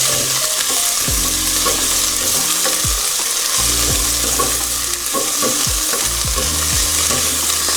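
Alaskan salmon sizzles steadily in a frying pan, a constant bright crackle with repeated low scraping knocks as the pan or food is shifted.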